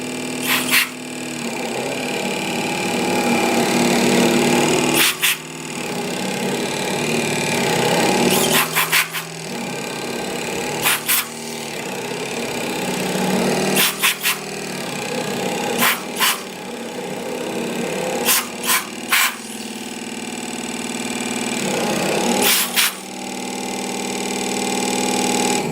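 Wood lathe turning a walnut cactus planter: a steady motor hum with a scraping cut against the spinning wood, broken by several short pauses and sharp clicks as the tool is lifted and reapplied.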